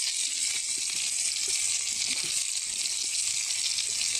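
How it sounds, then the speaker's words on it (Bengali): Steady, bright sizzle of onions frying in a hot pan, a continuous close hiss with faint clinks and stirring beneath. "পেঁয়াজগুলো এখন দিয়ে দিব।"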